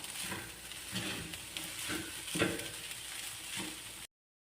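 Taiwanese-style fried rice seasoned with salt and ground pepper is stirred in a pan, producing a continuous close sizzle with rhythmic scraping strokes every second or so, no voices, ending abruptly.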